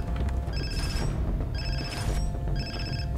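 A mobile phone rings in the video game Far Cry 3, giving three bursts of a bright, repeating electronic trill over a low background rumble, with no speech.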